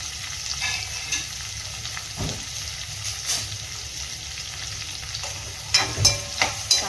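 Chopped onion, tomato and coriander sauté in a pan with a low continuous sizzle. Occasional spatula stirs give way to a quick cluster of taps near the end, close up with no voices.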